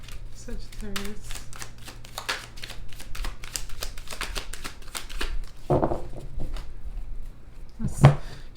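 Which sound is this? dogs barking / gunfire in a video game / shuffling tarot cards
shuffling tarot cards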